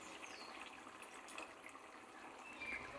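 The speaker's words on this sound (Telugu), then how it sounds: "కొన్ని వాటర్ అయితే పోసుకోండి." Water pours steadily into a pan of broad bean and tomato curry, a soft continuous gushing splash, fairly quiet and close, with no talk over it.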